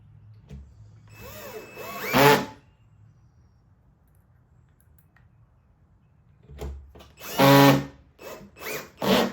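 Screws driven with a power drill into pre-drilled holes in the bottom of a base drawer cabinet during assembly, heard as two separate bursts of whirring motor with a pause of quiet between them.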